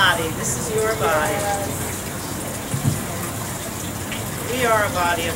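Water from Tompkins County poured out at an outdoor anti-fracking rally, a steady splashing gush running continuously under voices nearby.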